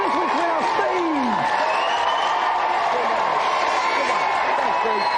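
A studio audience at a 1993 television games show applauds and cheers for the week's winner, a steady wash of clapping with a voice speaking over it.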